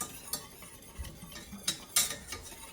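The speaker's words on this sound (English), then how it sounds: "So that just entails whisking rather constantly." Several soft, scattered clicks and scrapes come from a whisk working a flour roux in a pan. The sound is quiet and fairly close, with no talking.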